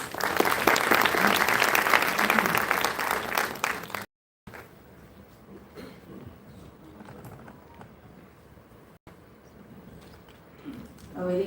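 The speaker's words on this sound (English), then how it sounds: "can I have a round of applause, please?" Conference audience applauding at an Indian industry event, a loud dense burst of clapping for about four seconds that cuts off abruptly, followed by quieter room sounds and rustling.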